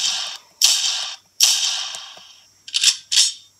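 Electronic Star Wars E-11 blaster prop firing a .44 Magnum gunshot effect: four sharp, loud reports, each with a short decaying tail, heard up close with no talk.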